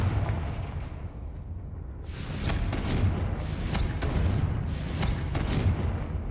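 Game explosions from the Confringo fire spell in Hogwarts Legacy: a rumbling background swells into three loud, crackling booms spaced about a second apart, each with a long noisy tail, no talking.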